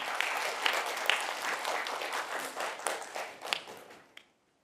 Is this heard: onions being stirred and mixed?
no